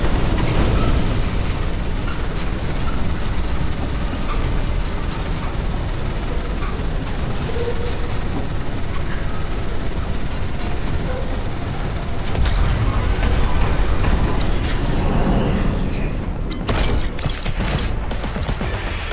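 Grenade weapon blasts in Warhammer 40,000: Boltgun merge into a loud, dense, continuous roar of gunfire and explosions, with sharper bursts near the end.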